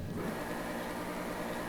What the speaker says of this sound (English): So the stock engine sounds like this.